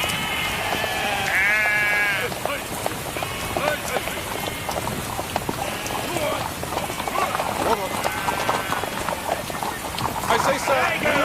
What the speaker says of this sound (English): I say, sir, move your sheep, please.